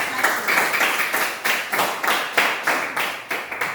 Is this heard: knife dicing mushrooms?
no